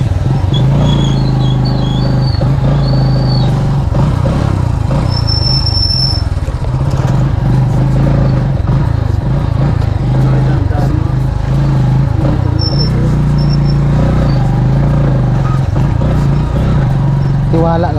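A motorcycle engine drones loudly and steadily while riding on a road, with wind and road rumble, occasional squeaks and clatter, and people talking over it.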